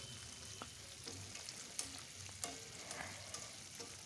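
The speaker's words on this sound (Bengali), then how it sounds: "দেখো আমি কিন্তু খুব সুন্দরভাবে চিকেনগুলোকে তেলের মধ্যে ডিপ ফ্রাই হতে দিয়েছি।" Chicken pieces deep frying in oil over a low flame make a faint, steady bubbling sizzle with occasional sharp pops and light utensil clicks, with no voices.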